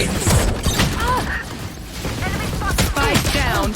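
Rapid gunfire and turret fire in a first-person shooter video game, crackling in dense bursts throughout with excited voices talking over the shots.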